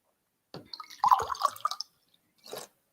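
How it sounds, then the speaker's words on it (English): Water drips with an odd, gurgling quality, first as a cluster of wet plinks and then as one softer drop after a short pause. "That water sounded so strange."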